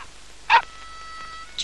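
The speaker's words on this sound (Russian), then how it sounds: "Отличная собака, что и говорить." A dog gives a short, sharp bark or yip near the middle, followed by a faint whimper at the end, against a quiet indoor background.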